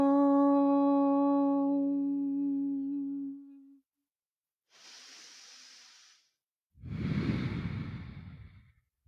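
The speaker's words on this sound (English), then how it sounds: "And so a cleansing breath first. Breathe in and out." In a power yoga class, a sustained hummed tone fades out. A soft, airy inhale follows, then a louder, deeper exhale through the mouth as one slow cleansing breath.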